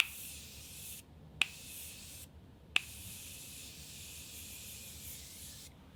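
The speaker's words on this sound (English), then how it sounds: "I don't like sprays in my face." A makeup remover mist is sprayed onto a face, several close hissing spray bursts separated by short pauses and two sharp pump clicks.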